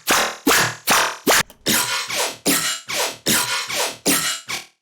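White noise layer from a dubstep track, played as a series of rhythmic bursts, each swelling and then cutting off, loud and close with no talking.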